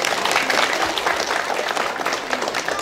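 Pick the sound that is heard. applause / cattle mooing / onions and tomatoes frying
applause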